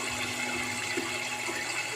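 Tap water runs steadily while rice is washed in a pot, a continuous close, even rushing hiss with no voices over it.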